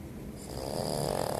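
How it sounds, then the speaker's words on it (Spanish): A sleeping puppy snores close up inside a closet in a steady rasping breath that grows slightly louder toward the end. "Nada, sigue roncando."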